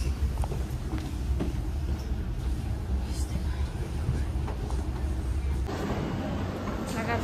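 Steady low rumble of an FR3 regional train in Rome rolling along, with continuous rattling and a brief high squeal near the end, heard from inside the carriage.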